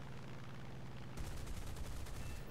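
Short bursts of aircraft machine gun and 20mm cannon fire in War Thunder from an F6F-5N Hellcat night fighter, starting after a quiet engine drone and rattling on as a rapid, loud burst to the end.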